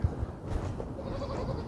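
A goat in heat bleats on a farm with houses and a road nearby, giving a few short, moderately loud calls over steady outdoor background noise, with no speech.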